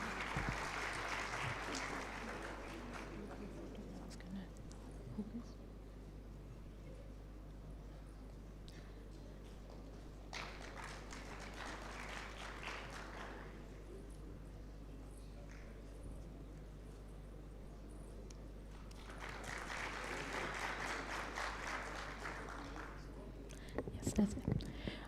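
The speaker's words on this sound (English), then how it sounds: "Can we have a huge round of applause for everyone present here?" An audience at a law conclave gives faint, distant rounds of applause in three separate bursts, with quieter murmuring in between.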